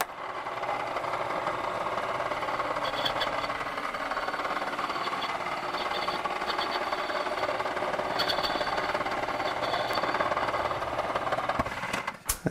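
A metal lathe makes a freehand profile cut with a hand-ground form tool during work on a copper water tank. A steady, faint mechanical hum and cutting noise runs throughout, with a few light ticks near the end.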